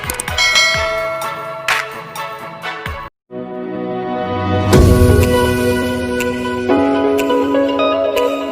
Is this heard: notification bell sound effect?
yes